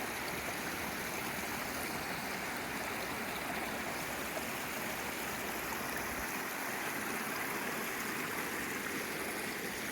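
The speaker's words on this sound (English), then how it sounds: "Look at the water rushing down off the mountain." Water rushes down off a mountain through the woods, a broad constant roar of a stream heard close and alone, steady throughout.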